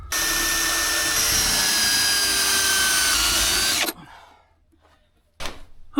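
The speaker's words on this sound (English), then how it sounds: "I think I'm gonna pre-drill this one" A power drill bores a pilot hole into wood for a tiny house utility room floor frame, whining loudly and steadily for about four seconds before cutting off, followed by faint rustling and a short burst of handling noise.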